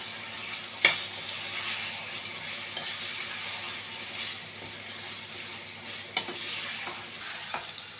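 Marinated chicken frying in a pan while being mixed, a constant close sizzle broken by a few distinct knocks and scrapes of the spoon, with no talking.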